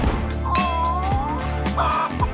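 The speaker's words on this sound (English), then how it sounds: "Mr. Rooster needs our help" A rooster-like bird calls with wavering, squawky tones over a droning background, a few short cries close by.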